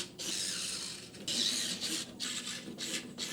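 Screws being driven into a shoe storage cabinet during assembly, close scratchy grinding in repeated bursts separated by short pauses, no talking.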